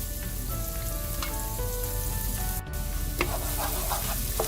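Onions sizzling in a pan while being stirred toward translucent, a steady close frying hiss with intermittent scraping strokes and a brief utensil clatter.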